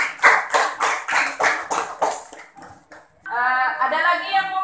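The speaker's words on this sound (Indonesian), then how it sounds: "tepuk tangan untuk Manika." Small group clapping for a participant at a tourism-themed gathering in Bali, a brief burst of rhythmic claps that fades, followed by a voice talking.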